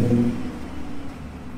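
A BMW 540 with a V8 engine idles with a low, steady rumble and slight burble, close by and fairly quiet, with no voices.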